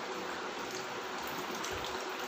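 Water splashes and pours steadily over a small deity idol during a bathing ritual, a continuous close wash of liquid with no voices.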